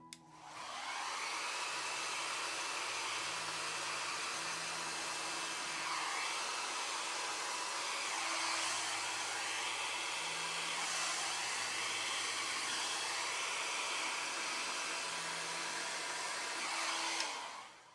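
Close and continuous, a hair dryer roars for about eighteen seconds as it blows a bloom outward in a pour of acrylic paint. The airflow tone shifts slightly now and then as the dryer moves.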